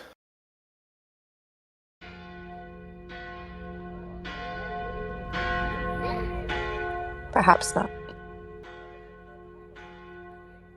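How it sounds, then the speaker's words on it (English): Church bells toll steadily with layered ringing tones that swell and linger, and a brief clatter cuts through midway; a voice speaks briefly. "nobody knows why the bells are ringing, but the bells ring for 10, 15 minutes"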